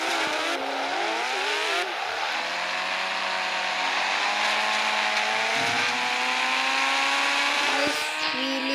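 A car drifts on a runway, its engine revving loud and close while tires squeal in long sliding sweeps, pitch rising and falling continuously throughout.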